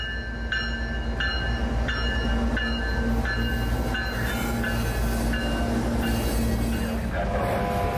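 A CSX CO10 coal train rolls into Yeoman yard near Tampa, a steady loud rumble with repeated wheel clicks and faint squeal throughout.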